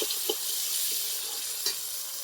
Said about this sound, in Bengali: আর দেবো এক চামচ মতো টমেটো সস একটু মিশিয়ে নেব